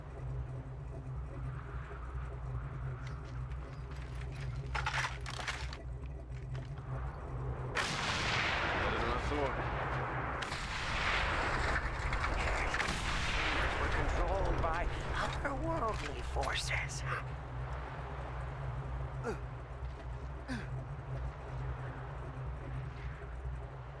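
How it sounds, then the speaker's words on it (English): Sniper rifle fire in the game Mad Max: occasional sharp shots over a steady low rumble and bird coos, with a long loud noisy stretch in the middle as a voice talks. "Time to put the sniper rifle to the test."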